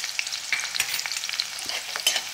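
Crushed garlic and chillies frying in hot oil for a Marathi-style methi bhaji, stirred steadily with a spoon scraping the pan over a continuous soft sizzle, close and without voices.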